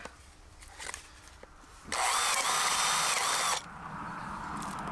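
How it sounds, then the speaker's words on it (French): A power drill bores a few holes for a phytoepuration setup, faint handling noises first, then a loud steady whirring burst of about two seconds, followed by a quieter running hum. "Donc là, on perce quelques trous."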